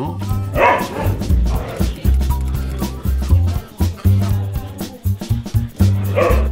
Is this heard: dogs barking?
yes